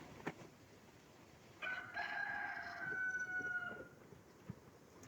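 A rooster crows once, a long drawn-out call at moderate distance from inside a large greenhouse, over quiet outdoor ambience with a couple of small knocks.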